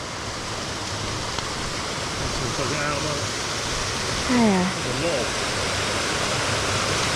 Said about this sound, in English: we should go and see the little waterfall first